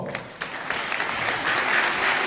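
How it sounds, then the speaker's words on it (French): Audience at a film screening breaks into applause, a dense, sustained wash of clapping that builds slightly and holds steady. "Allez à Briou, je vous demande d'applaudir très très fort."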